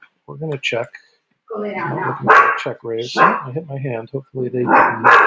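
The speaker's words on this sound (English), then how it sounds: "Apologies for the dog interference." A dog barks indoors several times in short, sharp bursts, mixed in with a person talking over it.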